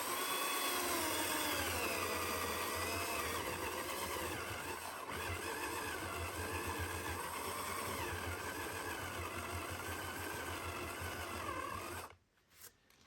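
A power drill whines continuously at full speed, straining against a log with a steady high buzz and low rumble before cutting off abruptly near the end.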